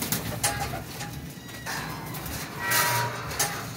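Flying pigeons kept in a loft, a batch of twenty-one birds, coo in low repeated throaty phrases close by, mixed with wing flutters and rustling.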